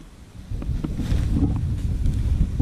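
Steady wind buffets the microphone with a low rumbling roar while a Marmot Tungsten UL1P tent is pitched, louder after the first half second, with faint flapping and rustling on top.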